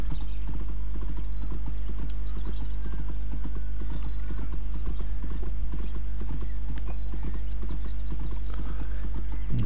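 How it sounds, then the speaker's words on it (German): Horse hooves clip-clopping steadily as a horse is ridden home in the riding video game My Little Riding Champion, an even, loud rhythmic clopping that runs throughout over a low steady hum. "Dann reiten wir nach Hause."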